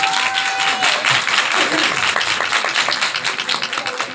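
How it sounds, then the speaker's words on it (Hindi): Children applauding in a classroom quiz, a thick, loud wash of many small hands clapping continuously, with a brief tone at the start and the clapping thinning toward the end. "तालियां बच्चे"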